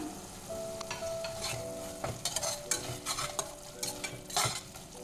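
A small tomato drops into hot oil in a frying pan for a Bengali taro root fish curry, bringing a close crackling sizzle with stirring scrapes and bursts of spattering, plus a faint tonal hum in the background.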